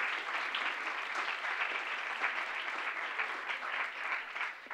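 Audience applause at a commemorative event marking Cyprus 1974–2024, a steady, dense clapping from a crowd that keeps up evenly throughout without fading.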